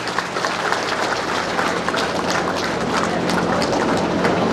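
An audience applauds at the inauguration of the Siddheshwari temple in Mohanpur while the Chief Minister Yogi Adityanath is welcomed: a thick, continuous wash of clapping that stays loud throughout.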